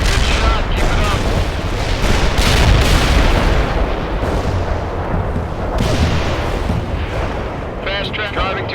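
Artillery shells strike in the strategy game World in Conflict, a sustained rumbling barrage of deep explosions rolling one into another at high volume, with a radio voice speaking briefly near the end.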